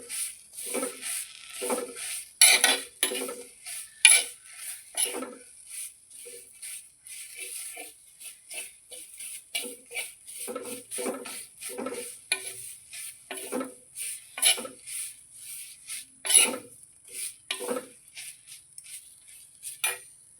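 Several handfuls of curry leaves roasting in a pan over a low flame, stirred with a utensil: a faint sizzle cut by irregular scraping and clinking stir strokes, close and isolated.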